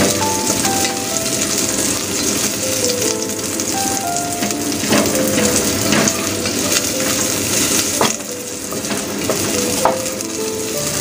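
Shallot fries loudly in a hot pan for a soup of bean curd, winter melon and oyster, a dense, constant crackling sizzle with scattered sharper pops throughout.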